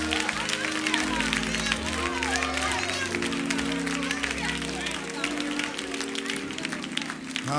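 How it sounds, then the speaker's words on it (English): A church congregation clapping along during a gospel song, steady rhythmic handclaps blended with music, singing and crowd noise inside the building. "Clap your hands all over the building"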